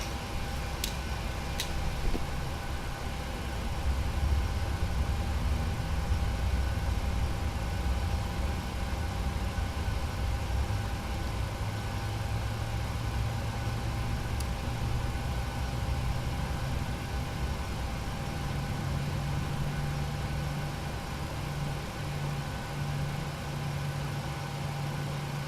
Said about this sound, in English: And 2 rising. Engine number 2 idle.